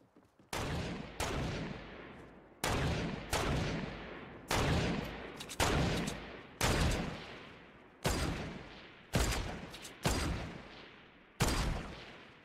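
Gunfire in the video game Fortnite rings out as a steady series of single heavy shots, about eight in all, each with a sharp crack and a long echoing decay, spaced roughly evenly and loud.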